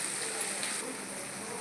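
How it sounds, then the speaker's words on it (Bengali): Onion frying in a pan for a chicken dish, a steady, even, hissing sizzle that holds close and unbroken the whole time. "এখন পেঁয়াজটা ভাজছি।"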